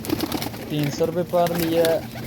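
Caged pigeons for sale at a Sialkot bird market coo in soft, throaty bursts near the listener while someone talks over them.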